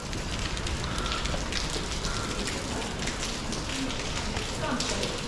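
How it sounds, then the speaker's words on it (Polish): Light rain falls steadily in a city centre, a continuous soft hiss with faint patter, heard close and evenly loud throughout with no voices. "Co prawda trochę pada deszcz"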